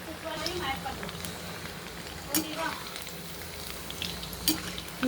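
Banana flower vadai frying in hot oil, a continuous close sizzle and crackle with a few brief sharper pops, heard on its own.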